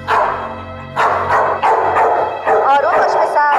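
A dog barking indoors in several loud bursts, about four barks spaced roughly half a second to a second apart, each one close and strong.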